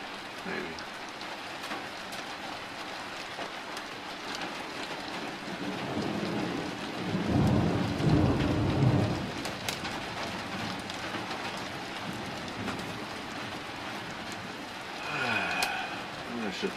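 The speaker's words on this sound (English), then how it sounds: "The rain is dropping off now." An early-morning thunderstorm gives steady rain on surfaces with a rolling low thunder rumble building midway, all fairly close and continuous, with a brief extra patter near the end.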